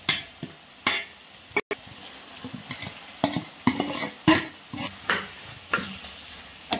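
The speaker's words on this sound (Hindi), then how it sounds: "और इसको अच्छे से मिक्स करेंगे।" Eggplant being stirred into hot spiced oil in a pan for baingan bharta, a spoon scraping and clacking against the metal in repeated close strokes over a soft steady sizzle.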